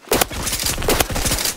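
A suppressed Remington M870 shotgun with a scope fires twice in a video game, two loud, close blasts about three quarters of a second apart, each with a short rumbling tail.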